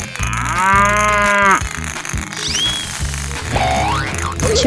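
A cartoon cow in a 3D animal video game lets out a long, loud moo over bouncy game music, followed by springy boing effects and chimes.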